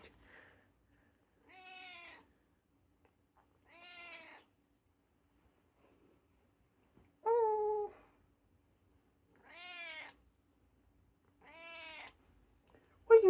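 A cat makes a series of odd, drawn-out meows, six separate calls spaced a second or two apart in a quiet room, close and clear with silence between them.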